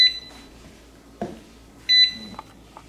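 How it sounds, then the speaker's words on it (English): A Presto Precise digital pressure canner beeps when its timer finishes: two bursts of short electronic beeps separated by a soft knock, close and clear in a quiet kitchen. "When the time expires, the unit will beep 10 times and Done will light up on the display."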